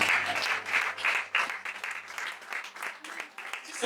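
Congregation in a church applauding and cheering continuously, a dense wash of clapping with voices rising through it, close and steady throughout.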